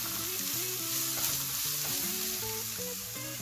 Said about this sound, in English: I'll just saute it for a few seconds